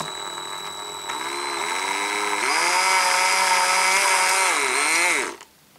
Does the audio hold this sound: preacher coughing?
no